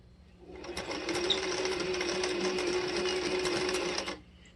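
Patchwork strips feed through a sewing machine in one close, steady burst of rapid stitching lasting about four seconds, with brief quiet before and after.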